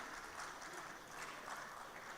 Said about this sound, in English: Please make them feel welcome by a round of applause as they come off stage